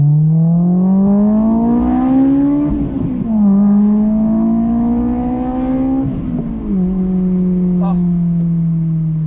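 Honda S2000 engine revving hard as VTEC engages, a loud rising drone climbing in pitch in repeated pulls with brief dips between gear changes, close and continuous, with a voice briefly exclaiming over it.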